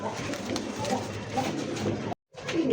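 A German Beauty Homer pigeon sitting in a pot coos softly in low, murmuring tones, close by, with a brief silent gap near the end before the cooing resumes.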